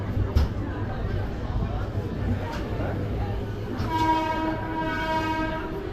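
Sealdah–Puri Duronto Express rolling slowly through Dum Dum Junction, with steady rail and wheel rumble throughout and a sustained horn sounding in the second half, heard from on board beneath a voice.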